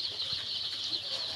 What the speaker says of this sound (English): these are the things, the birds, the poultry birds